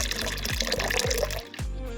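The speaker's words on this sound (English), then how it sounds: "Add water." Water gurgles and splashes as it is poured, with rhythmic glugging pulses, close and moderately loud with music-like tones underneath.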